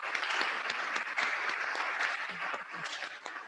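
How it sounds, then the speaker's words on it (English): A lecture audience applauds a distinguished speaker, a continuous patter of many hands clapping at moderate volume and slightly distant, easing off toward the end, with no voices heard. "You'll agree with me that we've had a round of applause, please,"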